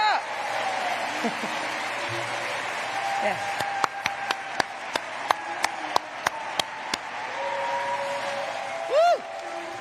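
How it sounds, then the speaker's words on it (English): Audience applause at the James Beard Awards, a broad wash of clapping with distinct individual claps popping out in a loose series, while voices call out briefly, including a short cheer. "let's give them a round of applause as well"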